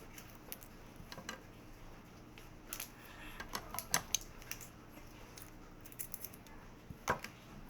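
A Salveo barley grass OTG sachet being opened: faint, scattered crinkles and small sharp tearing clicks of packaging, in short bursts against a quiet room.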